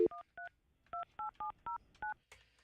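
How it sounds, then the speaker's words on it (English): A landline princess phone has its number dialed, producing a crisp series of nine touch-tone beeps in uneven rhythm, close and clear, followed by a brief faint tone at the end. "All right, calling Michelle on the landline princess phone, which is underneath my side of the bed."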